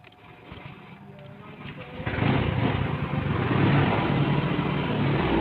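A Honda Scoopy scooter with a power-loss fault and a rumbling noise from its CVT area hums on a test ride, its engine and road noise growing louder partway through, with a rider speaking.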